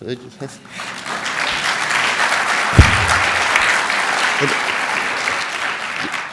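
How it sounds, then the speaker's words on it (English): An audience claps steadily for the speaker's wife Zareen, who stands at an event for the speaker's book The Three Campaigns. Dense, sustained applause fills the room, with one sharp thump partway through. "She deserves that round of applause because we just celebrated our 30th anniversary."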